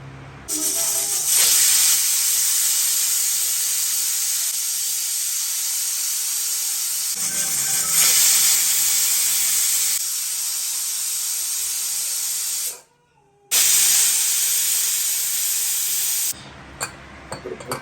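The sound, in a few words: pressure cooker whistling and releasing steam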